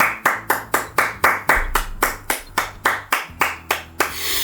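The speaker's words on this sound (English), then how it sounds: "She begins clapping, slow at first, then faster and more vigorously" Hand clapping in the video game Dream Daddy: sharp, evenly spaced claps start slow and pick up pace, close and loud, with no talk.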